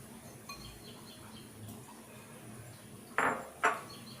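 Mixed fruits and other ingredients are combined in a bowl for a milk dessert. Quiet room tone gives way to two sharp, bright utensil clinks against the dish in quick succession near the end.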